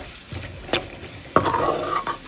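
Sliced onions cook in a pan with a faint sizzle under a few scraping stirs of a spoon against the metal, quiet and close with no talking.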